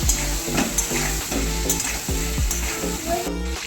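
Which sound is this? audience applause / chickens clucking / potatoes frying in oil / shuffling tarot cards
potatoes frying in oil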